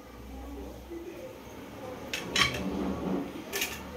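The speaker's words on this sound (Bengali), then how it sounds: "এবার ঢাকনাটা বন্ধ করে দিলাম, রেখে দেবো ডালটা সেদ্ধ হয়ে যাওয়ার জন্য" A metal lid clanks onto a pot of salted dal set to boil in a home kitchen, giving a few sharp, close metallic clinks against soft kitchen background and faint murmuring.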